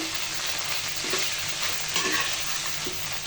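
Chicken chaap frying in a pan, with a steady sizzle under intermittent scraping and stirring of the spoon through the pieces, close and continuous with no voices.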